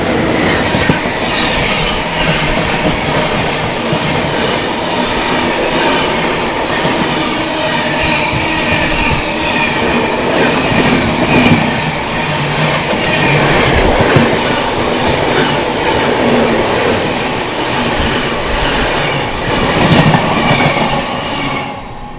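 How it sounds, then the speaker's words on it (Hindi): Dibrugarh–New Delhi Rajdhani Express rushing past up close, a loud, continuous roar of wheels and rail with steady clickety-clack and brief flanges squealing high, sustained throughout without any voices. "सामने से आ रही है डिब्रूगढ़ से चलकर नई दिल्ली की ओर जाने वाली राजधानी एक्सप्रेस"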